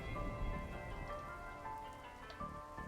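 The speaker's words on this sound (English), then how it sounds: "The hills are alive with the sound of raining." Steady rain falls in a castle video game, a continuous soft patter on surfaces with no voices over it.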